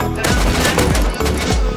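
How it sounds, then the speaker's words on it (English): Loud, sustained automatic gunfire in the survival game Rust, with rapid shots packed together in a short, steady burst. "they don't know we're shooting them"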